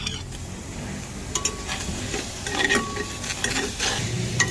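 Sinangag, garlic fried rice, being stir-fried in a pan without oil, with scraping strokes and light clinks of a utensil against the pan over a soft sizzle, heard close and with no talk.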